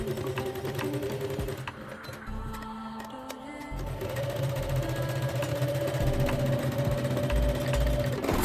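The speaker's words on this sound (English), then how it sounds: "Sew the binding to the neckline." A sewing machine stitching binding onto the neckline of a Bali kimono jacket, a steady close mechanical whir with a fast needle rhythm, briefly easing off before running continuously again.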